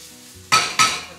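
A crepe pan heating on a stove gives two quick close metallic clanks, like the pan set down and shifted on the burner, over a faint low background.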